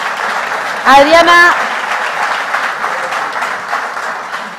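Audience applause at a business conference on AI strategy, with a brief voice speaking over it near the start before the clapping continues as a steady wash.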